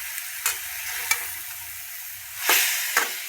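Food frying and being stirred in a pan, a steady close sizzle broken by a few sharp scraping strokes, with two louder bursts near the end.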